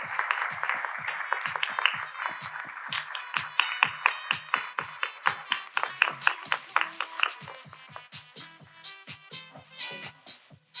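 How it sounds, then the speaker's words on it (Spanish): A seminar audience applauds the speakers, a steady run of distinct claps over a brief voice at first, thinning into slower, separate claps toward the end. "un aplauso para todas vosotras y vosotros"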